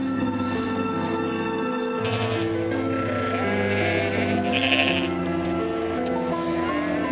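Several sheep bleat repeatedly and loudly, overlapping calls from a flock nearby, continuous throughout with no talking.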